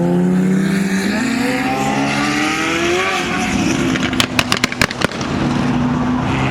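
A McLaren 720S supercar engine roars and accelerates nearby, pitch climbing through gears, with sharp crackling pops near the end.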